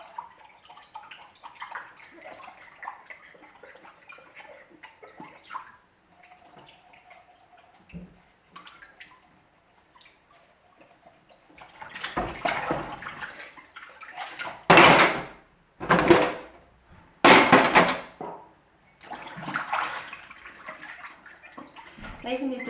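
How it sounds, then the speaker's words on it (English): Water splashes out in a few short bursts after quiet handling noises and faint clinks, like liquid tipped from a mug into a sink. "I'm going to chuck the water out."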